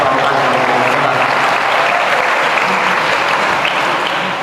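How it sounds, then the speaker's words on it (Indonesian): A hall audience at a scout movement coordinators' meeting gives a loud, dense burst of applause for scout award winners, clapping evenly for about four seconds with no talk. "Tepuk tangan untuk para andika yang telah mendapat apresiasi dalam kegiatan pramukaan."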